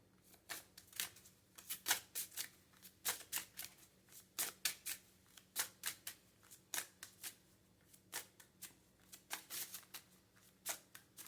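Tarot cards are shuffled in a quiet room during a weekly reading, giving repeated crisp riffling bursts in a steady, uneven rhythm, close and fairly soft, with no talking.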